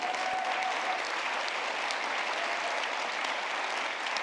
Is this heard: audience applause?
yes